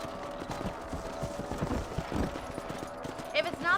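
Horse hooves clip-clop at a steady gait while riding in Red Dead Redemption, close and rhythmic over a faint game background, with a voice speaking briefly and a snort or whinny at the end.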